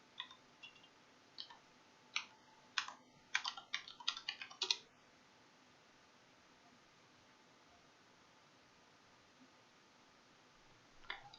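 Computer keyboard keystrokes tap in quick bursts, faint and close, then a long quiet stretch follows before one last soft tap near the end.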